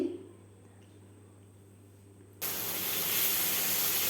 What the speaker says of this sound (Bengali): এরকম ভাজতে ভাজতে জলটা শুকিয়ে এসেছে।